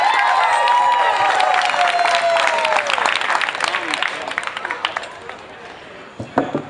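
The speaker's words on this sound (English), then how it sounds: "Can we get a round of applause?" An audience at a live PechaKucha event in Honolulu applauds and cheers a performance artist, loud dense clapping with whoops that gradually thins out into scattered claps as voices talk.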